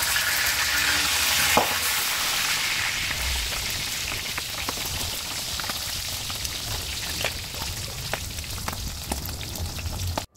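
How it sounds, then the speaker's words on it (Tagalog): Pork chops fry in a pan with a steady, crackling sizzle that continues for about ten seconds, occasional sharp pops of spattering oil standing out above the dense hiss. "human na naman taog prito sa pork chop"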